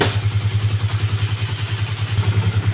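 Honda CB150 motorcycle electric starter cranking, a fast, even, pulsing whir that stays steady and close throughout, never catching, with no talking.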